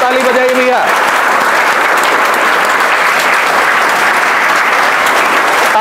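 Audience applause at a coaching institute prize distribution: loud, continuous clapping filling the room, with a voice briefly heard at the start.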